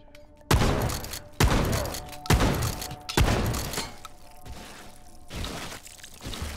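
Shotgun blasts in the VR game Hot Dogs, Horseshoes & Hand Grenades, four loud booming shots fired at a steady pace, each followed by a decaying rumble, then quieter thumps.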